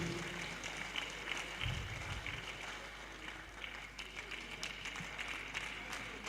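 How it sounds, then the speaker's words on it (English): Audience applauding the Governor of Osun State at an engineers' inauguration ceremony, a continuous dense wash of clapping filling the hall, fairly distant and steady. "Please, let's clap very well for His Excellency."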